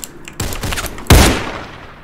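Gunfire from the Roblox game Criminality: a burst of rapid shots followed by a louder, booming blast that decays slowly, with no voices.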